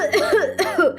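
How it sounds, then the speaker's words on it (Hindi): Several people cough in quick bursts as chili fumes fill a home kitchen, with the hacking close and loud. "अचानक ही पूरे घर में मिर्ची की धसक हो गई और सभी खांसने लगे।"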